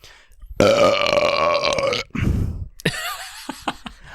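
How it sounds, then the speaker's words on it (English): A long, loud burp after drinking LaCroix sparkling water rumbles for over a second, followed by a shorter belch and some laughing talk. "was then a LaCroix burp"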